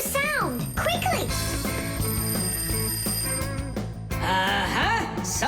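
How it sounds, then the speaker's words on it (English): An alarm rings continuously in a cartoon, a steady electronic bell tone sustained under busy music and characters' speaking voices. "Simka, I think I can hear my alarm ringing"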